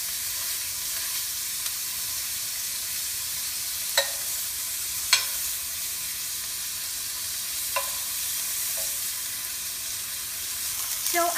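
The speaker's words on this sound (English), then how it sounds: "Now I'm just flipping my patties." Burger patties sizzle steadily in a hot pan as they are flipped, with a constant frying hiss broken by a few sharp clicks and scrapes of a spatula.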